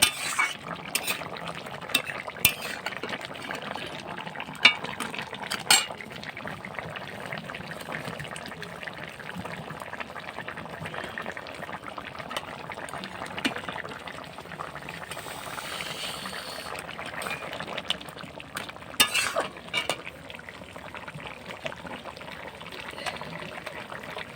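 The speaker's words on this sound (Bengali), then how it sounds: "তরকারি দেখো ফুটে রান্না হয়ে এসেছে" Vegetable curry bubbling in a pot on the stove: a continuous soft simmering hiss with scattered clicks and utensil clinks, close, with faint voices at times.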